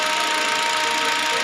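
A car engine, which has a slight misfire and an oil leak at the valve cover gasket, runs steadily at close range with an even mid-frequency hum and no voices over it.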